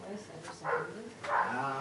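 Two short barks from a dog, close by, with a voice speaking around them.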